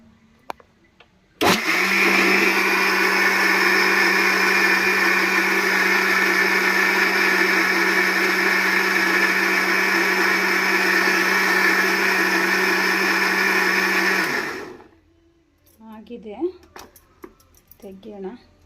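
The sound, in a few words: mixer grinder grinding grated coconut to fine paste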